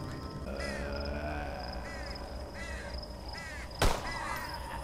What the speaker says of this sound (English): Stupid crow.